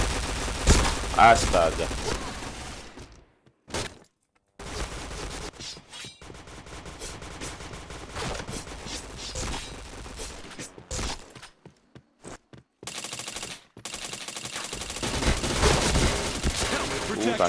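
Rapid gunfire bursts from a video game shooter, loud, dense volleys separated by brief silent gaps, with a voice exclaiming briefly over the shots.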